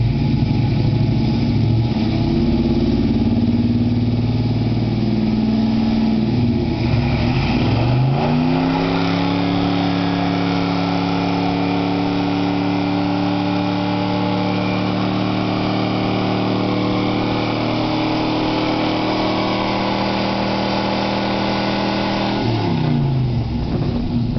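A 1978 Camaro engine revs hard through a driveway burnout, a loud, sustained V8 roar that climbs and drops in pitch several times, close and continuous, with no talk.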